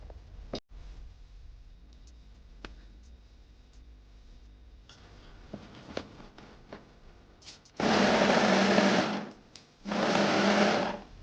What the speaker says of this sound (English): it's just going to resemble where I need to stitch with the sewing machine